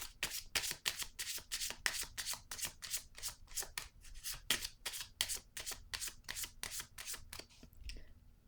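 Tarot cards shuffled by hand in a quick, regular series of close, crisp riffling swishes, around twenty in a row, ending with a soft card being drawn.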